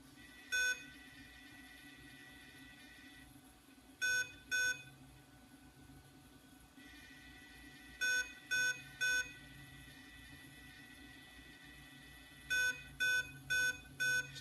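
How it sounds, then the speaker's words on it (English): Short electronic beeps from a Kontronik ESC in programming mode, in clusters of one, two, three and four over a quiet steady hum, with gaps between the groups. "Okay, you're going to wait for 4 beeps."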